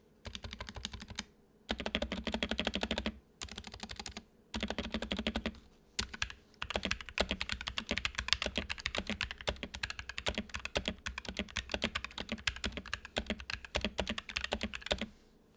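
Close-up clacking of silicone-modded optical switches on a budget waterproof mechanical keyboard: short bursts of keystrokes with pauses, then a long stretch of steady, rapid typing. No voices.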